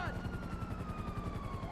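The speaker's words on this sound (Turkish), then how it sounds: "Evet gel bakalım helikopter." Helicopter in the video game GTA 5, a steady rapid rotor chop with a faint whine gliding downward, heard at low level.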